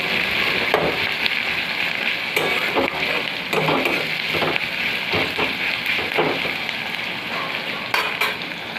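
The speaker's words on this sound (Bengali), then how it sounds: "পেঁয়াজটা আমার ভাজা চলছে, একদম লাল লাল হয়ে যাবে" Onions fry in oil in a pan with a steady, close sizzle, broken by repeated scraping and clinking from stirring with a utensil.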